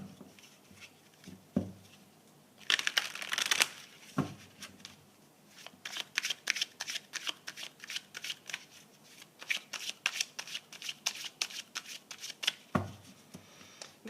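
A deck of tarot cards is shuffled close by, with rapid riffles and a run of crisp, rhythmic card slaps and flicks broken by a few brief pauses and soft thumps, and no talking.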